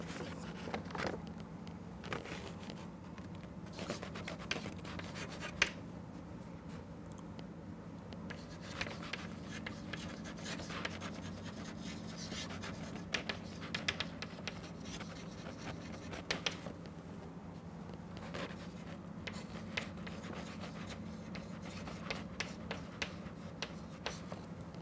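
Handwriting during an optical microscope lesson, heard as faint, scattered scratches and taps of pen on paper over a low, steady background hum.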